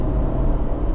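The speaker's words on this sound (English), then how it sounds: "When you rev the engine up like that, you get typical lovely Honda noise" A 1.6-litre Honda HR-V engine holds a steady, loud low rumble from inside the car, dense and unbroken, with no clear rise in pitch over the second.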